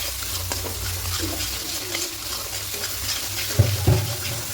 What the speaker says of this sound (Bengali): স্বাদ মতো চিনি দেব দিয়ে খুব ভালো করে ঢেকে কষিয়ে নেব